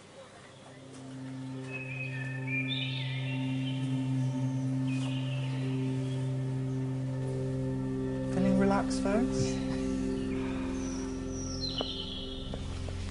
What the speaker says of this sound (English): you got some British bird sounds and other beautiful sounds